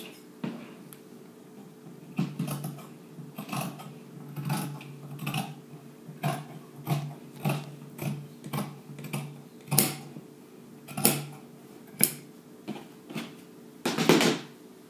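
Scissors cutting blouse fabric along a marked line give a series of crisp, close snips at a fairly regular pace, with a few louder cuts toward the end.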